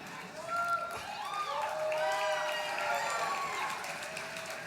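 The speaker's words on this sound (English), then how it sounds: "You shouldn't be clapping for that." An audience at a speech event claps and cheers, a moderate wash of applause with whoops and excited voices over it.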